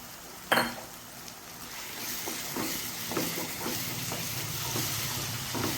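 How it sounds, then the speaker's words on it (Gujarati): Tomato puree lands in a pan of sizzling chickpea curry with a sharp splat, and the frying hiss then swells into a steady, fairly quiet sizzle with light stirring scrapes. "હવે એમાં આપણે ટમેટાની પ્યુરી ઉમેરી દઈશું"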